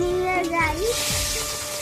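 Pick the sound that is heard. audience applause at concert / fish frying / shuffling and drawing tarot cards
fish frying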